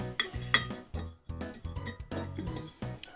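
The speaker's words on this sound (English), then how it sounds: "So stir that all around." A metal utensil stirs chicken fillet with cheese, lemon and garlic in a dish, giving repeated close clinks and scrapes in an uneven rhythm.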